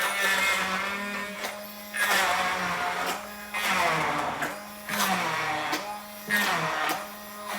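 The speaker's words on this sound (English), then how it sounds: "I'm gonna keep doing this until it's all blended smoothly" A blender mixes vegan brownie batter in repeated pulses, about five loud whirring bursts of a few seconds each separated by short pauses, the motor pitch dipping slightly as it churns the thick mixture.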